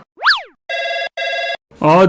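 A short electronic telephone ring in clipped tonal bursts, opening with a sweeping chirp and followed by two steady beeps, then a voice starts.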